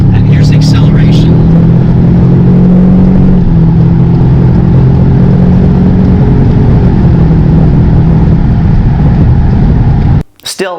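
A 2019 Ford Ranger pickup truck accelerating, with a steady, loud engine drone and road roar from inside the cab that holds for about ten seconds before cutting off abruptly.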